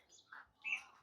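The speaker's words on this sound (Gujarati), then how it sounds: "મસ્ત પક્ષીઓના કલરવ" Birds chirp faintly at a farm field, two or three brief, high tweets at a distance over quiet background.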